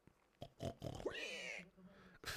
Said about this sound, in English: pig noises are casually popping off here